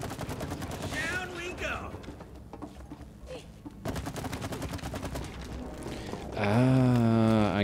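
Rapid bursts of gunfire from the video game It Takes Two, shooting at targets in a sewer area, crackling in quick clusters under a man's ongoing speech, with a louder tonal game sound near the end.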